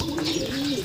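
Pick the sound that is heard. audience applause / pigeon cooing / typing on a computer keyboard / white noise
pigeon cooing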